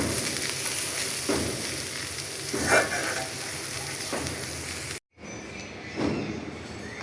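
White cabbage bhaji with green chilies fries and crackles in a pan as it is stirred, a steady close sizzle with a few scraping bursts, briefly cut off before resuming.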